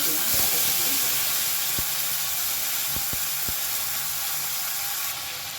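Ground tomato paste hits hot oil with frying cumin and sizzles in a steady hiss throughout, broken by a few sharp clicks and knocks from the pan, and the hiss fades slightly near the end.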